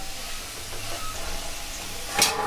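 Potatoes with turmeric and salt fry in a pan with a steady soft sizzling hiss and a brief louder burst near the end, with no talking.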